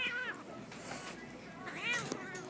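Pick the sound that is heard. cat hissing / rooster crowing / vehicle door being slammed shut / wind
cat hissing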